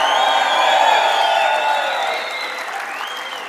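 At an East Coast Surfing Hall of Fame induction, an audience claps, cheers and whoops in a loud continuous wash that eases slightly toward the end, with scattered high whoops over the clapping.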